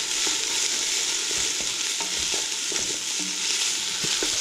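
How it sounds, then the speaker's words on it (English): Onions fry in a pan for a chickpea curry, giving a steady close sizzle with occasional soft clicks from stirring, and no voices. "The onions are going to be frying for a while now."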